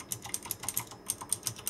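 Steady typing on a Gamdias Hermes Ultimate mechanical gaming keyboard, a quick run of crisp, close key clicks in an irregular rhythm with no voice.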